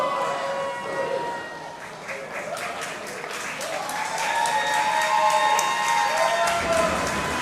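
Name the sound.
wrestling crowd cheering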